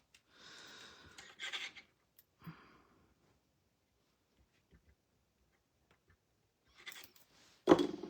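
Scissors cut out a paper pear shape in short, close snipping and rustling bursts separated by long quiet gaps, with a sharper clack near the end.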